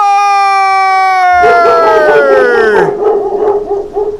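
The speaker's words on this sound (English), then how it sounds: "I made a couple dogs bark." Several dogs bark and howl loudly after a sustained sung or shouted tone, their yips and drawn-out howls overlapping and carrying on in uneven bursts.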